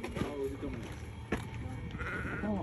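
Sheep bleat in short wavering calls over ongoing talk from nearby people, the bleats mid-level and partly mixed with the voices.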